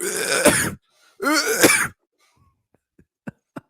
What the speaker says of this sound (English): The coughs weren't even on purpose.